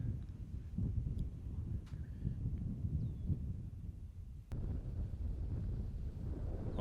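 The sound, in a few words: wind blowing outdoors on a disc golf course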